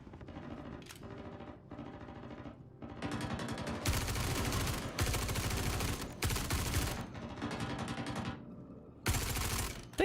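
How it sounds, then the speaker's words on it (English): Sustained bursts of gunfire pound against a ship in Star Citizen, loud and dense rattling volleys broken by brief lulls, with heavier barrages toward the middle and end. "These fuckers are shooting my ship."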